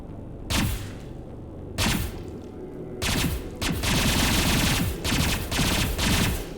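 Bursts of rapid automatic gunfire in the sci-fi shooter Mass Effect 2, loud close volleys separated by brief pauses, with heavy thuds and a sustained barrage toward the end.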